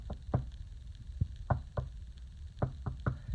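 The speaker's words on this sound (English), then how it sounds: "the FX will sound a knocking that will loop throughout, and it'll just be a knocking like this" Looping knocking effect from a coffin prop: sharp single and double knocks spaced irregularly over a quiet background, fairly close and distinct, with no talking.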